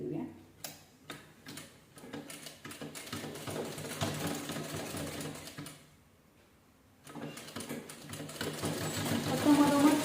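A sewing machine stitches fabric in rapid ticking bursts with one short pause, running loud and close throughout.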